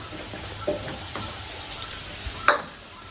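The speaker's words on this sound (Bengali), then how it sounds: "ততক্ষণ আমি চিলি চিকেনের জন্য এখানে পকোড়াগুলো ভাজছি" Pakoras for chilli chicken frying in oil: a faint, steady sizzling hiss broken by a few sharp clinks of a utensil against the pan.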